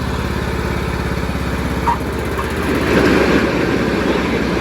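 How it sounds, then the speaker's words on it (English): A Cub Cadet LTX1045 lawn tractor runs close by with its mower blades engaged, a loud, steady, pulsing engine drone that rises slightly partway through. "So we're going to put the mower deck down a couple notches, engage the blade."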